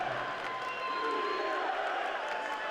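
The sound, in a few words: Los Angeles stadium crowd cheering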